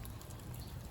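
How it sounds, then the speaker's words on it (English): Rain beginning to fall after a long windstorm, a dense patter of drops hissing on surfaces, steady and fairly soft throughout the short moment, with no voices. "It's finally starting to rain."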